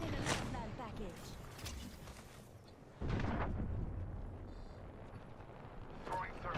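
A frag grenade goes off in the video game Apex Legends, a loud booming burst partway through amid continuous rumbling combat noise, with a voice talking over it.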